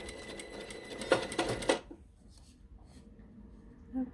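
A sewing machine stitches fabric gathers in a short, close, rattling burst with a few louder clicks, then stops, leaving faint room noise and a soft thump.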